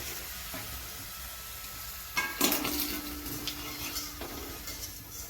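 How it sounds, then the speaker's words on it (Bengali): Fuchka puris frying until crisp in hot oil, a steady sizzle throughout that swells louder midway as fresh dough hits the oil, with faint stirring clinks of utensil against pan, no talking. "ব্যাস এরকমই কড়কড়া করে ভেজে নিতে হবে।"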